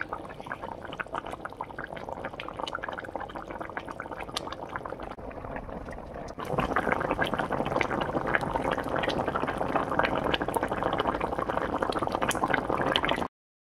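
Tilapia fish curry boiling in a pan, a continuous bubbling and popping that turns noticeably louder and denser halfway through, close and alone without talk.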